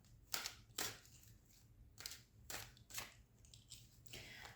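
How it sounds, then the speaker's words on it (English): A tarot card deck is shuffled by hand in short, crisp riffling bursts separated by brief pauses, close and quiet, with no talking. "I'm just gonna proceed with shuffling my deck"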